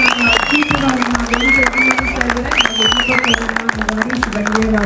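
An audience at a film fan event in Dubai claps and whistles in a rapid, dense patter, partly buried under someone speaking loudly over it.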